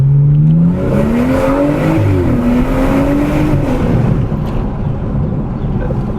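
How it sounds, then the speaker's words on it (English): A BMW 340i single-turbo engine fitted with an Agency Power intake revs up close and loud, pitch climbing then settling into a sustained roar with turbo whoosh, without talk. "You can definitely hear the turbos more. It's a single turbo, not turbos."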